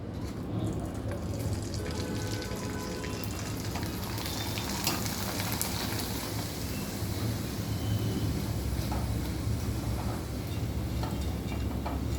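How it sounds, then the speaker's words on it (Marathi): Small readymade rice papads fry in hot oil already used for bhaji, giving a steady dense sizzle and crackle that runs unbroken and close throughout, with no talking. "आपल्याला हे पापड पण आता तळून घ्यायचे त्याच तेलामध्ये ज्या तेलामध्ये आपण भजी तळले ना त्याच तेलामध्ये आपल्याला हे पापड तळून घ्यायचे"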